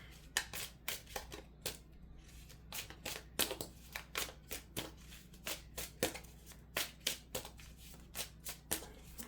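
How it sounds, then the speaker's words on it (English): Tarot cards being shuffled by hand up close, a steady run of crisp riffling bursts and soft slaps repeating for several seconds with no voices. "A shuffle."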